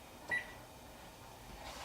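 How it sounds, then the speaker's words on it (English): A kitchen timer being set in a home kitchen gives one short, high electronic beep early on, then a quiet room hum. "Set my timer for"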